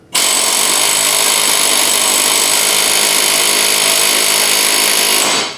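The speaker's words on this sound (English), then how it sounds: "So I've beat it up with the air chisel" An air chisel hammers on a rusty Dodge ball joint in one sustained, loud, rapid metallic rattle that starts abruptly and runs without a break before cutting off.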